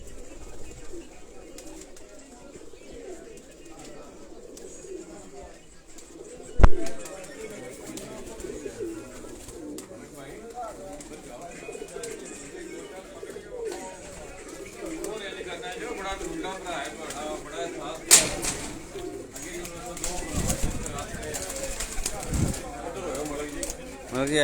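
Tournament racing pigeons coo in soft, repeated low calls, with a brief flutter of wings, while people talk over them for much of the time.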